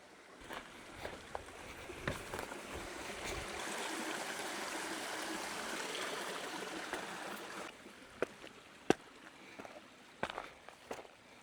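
Running shoes, a Hoka Speedgoat 7 and a Kiprun Kipsummit Max, plunged into a flowing stream, with steady rushing, gurgling water for several seconds, then sharper splashes and footstep-like knocks as the shoes are lifted out.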